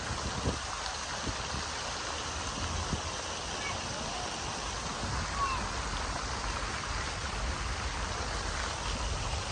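Water jets of a fountain show in a park in Brasov rush and splash in a steady, broad hiss, heard from nearby with faint voices in the background.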